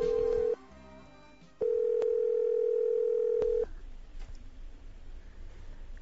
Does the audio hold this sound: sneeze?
no